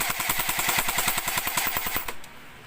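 Cyma M14 SOCOM airsoft rifle firing on full auto, a rapid, even burst of sharp mechanical cracks for about two seconds, close and loud, then cutting off abruptly.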